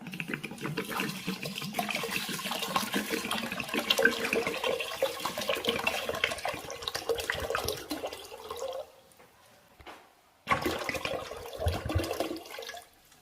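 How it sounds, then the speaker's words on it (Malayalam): Water pours steadily into a pot of kanji (rice porridge) with cumin and salt for several seconds, breaks off, then splashes again after a brief pause. "അഞ്ച് കപ്പ് വെള്ളം ഇതിൻ്റെ അകത്ത് ചേർത്തിട്ടുണ്ട്."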